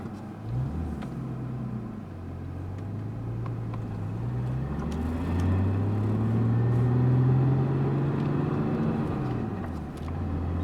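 A 1990 Nissan 300ZX drives on the road with a steady low engine drone and road rumble from inside the cabin, its pitch rising gradually through the gears before easing off near the end.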